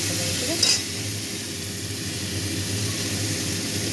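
Ridge gourd peel frying in a pan until reddish gives a steady, moderate sizzle and hiss, with one brief clink near the start and no other sounds over it.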